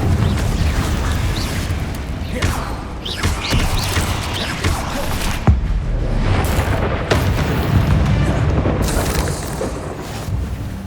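A Confringo blasting spell going off in Hogwarts Legacy, dense loud booming explosions and crackling bursts layered with rumbling in-game effects, no speech.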